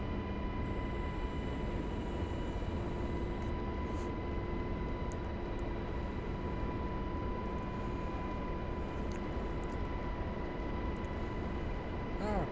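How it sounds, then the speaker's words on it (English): A helicopter in flight gives a constant droning engine and rotor hum with steady whining tones, unbroken and even in loudness throughout. "It's actually a pretty simple helicopter to fly"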